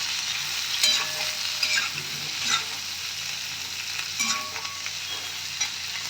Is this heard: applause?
no